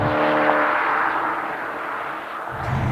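A Porsche Panamera GTS engine hums as the car drives, a smooth, loud, sustained tone with a slight lift near the end, without talk.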